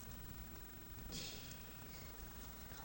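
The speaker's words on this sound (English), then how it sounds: "Look at the rain." Rain falling during a thunderstorm, a faint, steady hiss of drops that continues throughout with no break, no clear thunder and no talk.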